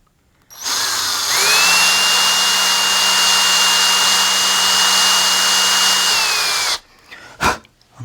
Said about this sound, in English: I'm just going to drill the other one very carefully.